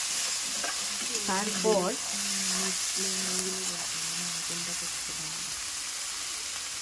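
Spice masala frying on high flame in a pan for a chana masala, a steady close sizzle with stirring, while someone talks over it.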